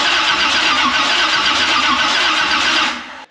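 A built Pontiac 455 V8 in a Firebird cranks and fires, a loud, close, continuous engine roar that holds steady for about three seconds before cutting off abruptly.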